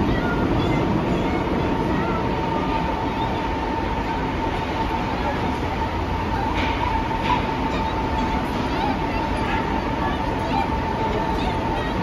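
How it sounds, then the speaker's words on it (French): Steady loud rumble of a subway car in motion, with a constant hum and faint rattling throughout, while people speak over it. "on est dans le métro"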